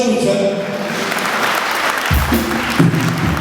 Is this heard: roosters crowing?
no